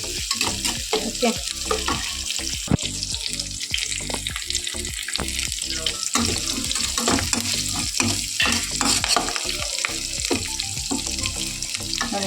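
Ingredients for a leftover chapati dough recipe sizzle steadily in a pan while a spoon stirs and scrapes through them with frequent clinks, close and continuous; one brief word is spoken.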